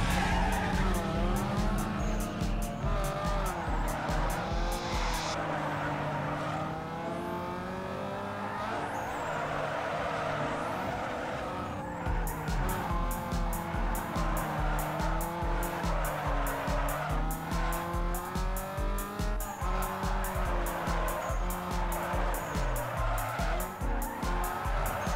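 A Nissan 240SX drifting in Need for Speed Underground 2, with sustained tire squeal and skidding over a revving engine, rising and falling through long slides, loud and close with no talk.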